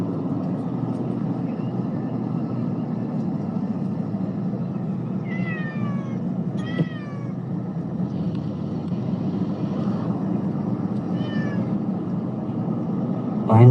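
A cat meows several times, a few drawn-out cries standing out over a steady low rumble of engine or vehicle noise, with faint talk in the background.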